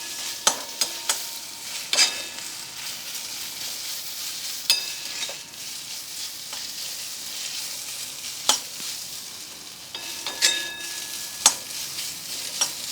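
Ingredients sautéing in a pan for a festival offering dish, with a steady sizzle and the scrape and clack of a spoon stirring in scattered bursts, close and alone with no talk.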